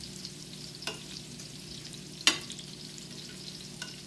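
Eggplant, fingerling potatoes and Brussels sprouts fry in a pan with a soft, steady sizzle, punctuated by a few faint clinks and one sharper utensil tap; quiet and close.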